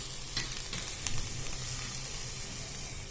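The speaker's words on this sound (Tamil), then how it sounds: "நல்லா கலந்து விட்டுக்கோங்க." Banana flower and lentil crumble sizzles in a frying pan while being stirred, a steady close frying hiss broken by soft scraping stir strokes, no voices.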